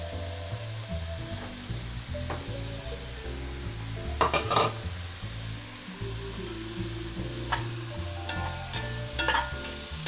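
Chopped onion fries in a pan for Bolognese sauce, a steady sizzle with a low cooktop hum beneath, broken by a few close scraping stirs and clinks of a utensil.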